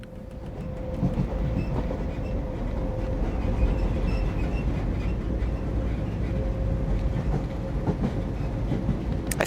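A train rolling along in the video game Blackwood Crossing, a continuous low rumble with faint rhythmic clatter and a thin steady tone, loud and unbroken throughout.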